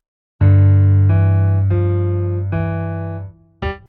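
Low keyboard notes from the second bar of the left-hand part in a song's solo, after a moment of silence: four held synth notes in a steady sequence, then a short final stab, clean and close.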